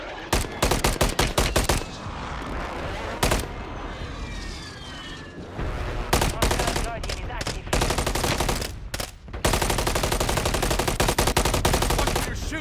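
Call of Duty ranked multiplayer gunfire: loud, dense automatic rifle bursts and rapid volleys nearly nonstop, with short gaps, against the roar of a game battlefield.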